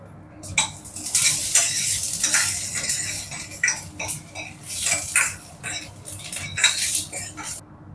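Vadagam frying in hot oil in a pan for a sambar with raw mango, drumstick and jackfruit seeds, with a steady loud sizzle and repeated scraping, clinking stirs throughout.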